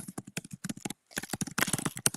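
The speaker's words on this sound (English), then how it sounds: "so you are going to hear typing." Rapid clattering keystrokes on a computer keyboard, close and steady with a brief pause partway, then a busier burst of typing.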